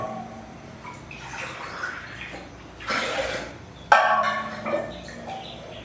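Water pours into a cooker pot of rice and milk for sweet rice in a few close, splashy bursts, the last one sharper and louder, with no talking.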